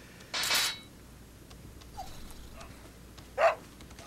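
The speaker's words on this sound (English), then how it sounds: "Now this dog, if you help it, you'll see it later on." A dog in Resident Evil 4 lets out two short, sharp whimpering yelps a few seconds apart, with a faint soft whine between them over quiet game ambience.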